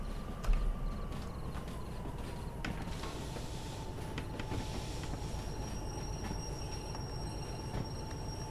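Train rolling on rails in the Derail Valley simulation game, a steady low rumble with wheel clicks and a thin squeal running throughout, close and continuous.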